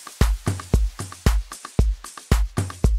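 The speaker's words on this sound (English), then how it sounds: "That's a dope tom" A tom drum in a deep house beat made in FL Studio thumps in a repeating pattern alongside booming kicks, each hit decaying quickly, steady and up-front with nothing else over it.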